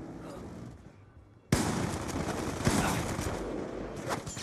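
Rapid gunfire in the Black Ops 2 video game, bursts of shots breaking out suddenly after a quieter moment and continuing densely, loud and close, with little talk over it.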